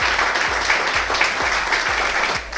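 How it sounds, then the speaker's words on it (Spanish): Brief burst of audience applause for parents at a pageant event, a steady crowd of clapping hands with a few low thumps underneath, moderately loud and even throughout. "de verdad un aplauso a todos los papás que están apoyando a sus hijas"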